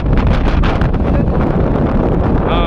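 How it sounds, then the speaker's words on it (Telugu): Strong ocean wind at the Vivekananda Rock Memorial off the coast, loudly buffeting the microphone in a continuous roar with the sea rushing beneath it and no voices. "ఇక్కడ గాలి మాత్రం మస్తు చూడండి"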